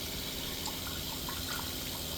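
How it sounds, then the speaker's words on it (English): Fresh water pours from a hose into a pail during maple syrup boiling, making a steady, soft rushing splash from start to end. "I'm pouring into a pail right now to hold some fresh water"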